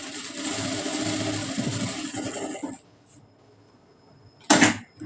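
A sewing machine double-stitches a fabric seam, a steady close mechanical hum for a couple of seconds that stops, followed by quiet and a short sharp clack near the end.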